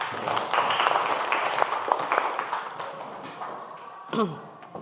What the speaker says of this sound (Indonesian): tepuk tangan dulu untuk semuanya ya